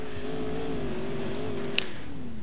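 A car engine in the racing game Alarm für Cobra 11 Highway Nights drones steadily at high revs during a run-up for a jump, with a short sharp click partway through and no voice over it.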